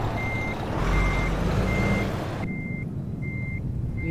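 International Lonestar semi truck backing up, its reversing alarm beeping in a steady rhythm of long evenly spaced tones over a loud rumbling engine, close by, with the engine noise dropping sharply partway through.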